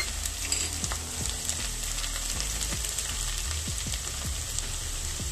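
Garlic and mustard seeds fry in hot oil, giving a steady, close sizzle peppered with sharp pops and spits as the seeds crackle, with no talking over it.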